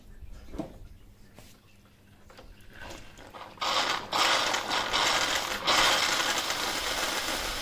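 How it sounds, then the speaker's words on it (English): A Melitta Barista TS Smart bean-to-cup coffee machine runs its rinse cycle, starting with faint mechanical clicks and creaks, then a loud, steady hiss and rush of water through the nozzles from about halfway through. "And then the system is just rinsing itself out."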